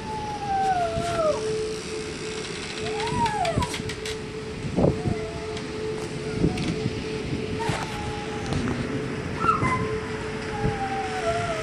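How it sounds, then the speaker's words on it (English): A dog howls repeatedly in long rising and falling wails during a tornado warning in Oklahoma City, fairly close and loud, with rumbling storm and wind noise underneath. "That is my dog howling."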